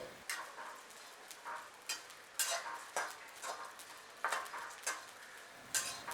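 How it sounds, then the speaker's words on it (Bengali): Whole spices with rose petals are dry roasted in a pan, with irregular scraping and stirring clinks against the metal over a quiet background, close and fairly faint. "মশলাগুলোকে ভালো করে ড্রাই রোস্ট করে নেওয়া হলো"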